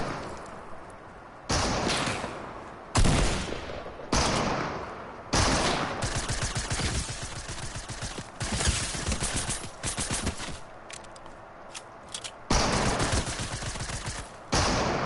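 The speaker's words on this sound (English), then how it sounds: "Why is your gun so freaking loud? What are you shooting me with?" Loud, close gunfire from an enemy's weapon in the video game Fortnite, coming in repeated rapid bursts separated by short quieter gaps, with no talking.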